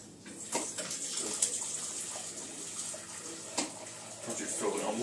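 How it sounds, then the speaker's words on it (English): Water is poured into a container in a kitchen, a gushing, splashing flow in a few short bursts close by, with quieter gaps between them. "I'm putting water in there, Tim."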